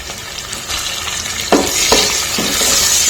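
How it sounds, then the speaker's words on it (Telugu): Onions and green chillies fry in a pan with a steady, close sizzle, broken by a few scraping stirs, and no talking. "ఆనియన్స్ ఫ్రై అవుతున్నాయి కదండి"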